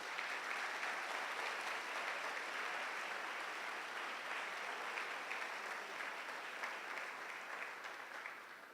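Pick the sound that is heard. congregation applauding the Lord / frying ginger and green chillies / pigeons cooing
congregation applauding the Lord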